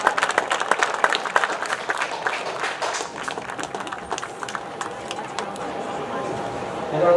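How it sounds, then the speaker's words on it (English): An outdoor crowd at a high school football game claps for senior women's golf players and their families, a steady wash of applause that thins toward the end, with a faint tone and murmured voices underneath. "Please give a round of applause to our seniors and their families representing women's golf"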